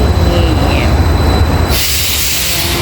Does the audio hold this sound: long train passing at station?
yes